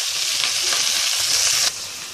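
Dwarf copperleaf (ponnaganti) leaves fry in hot oil with tempering spices, a steady loud sizzle and crackle that drops to a quieter hiss near the end, with no voices.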